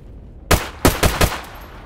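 Rifle fire in the video game Stalker GAMMA, four loud sharp shots in quick succession after a brief quiet lead-in.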